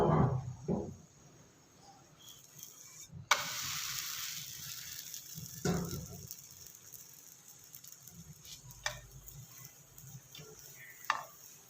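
A chicken tikka paratha fries in a hot pan, with a faint steady sizzle, occasional crackles and a few louder scrapes and taps as it is turned.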